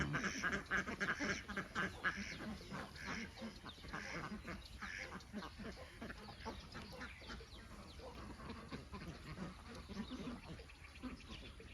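A flock of Khaki Campbell ducks quacks continuously, overlapping calls in a busy, steady chatter that carries on without pause.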